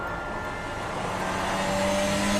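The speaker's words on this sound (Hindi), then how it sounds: "शॉन बात करते हुए गाड़ी चला रहा था" A car driving in an animated cartoon, a steady, loud engine drone with road rumble running continuously throughout, no voices.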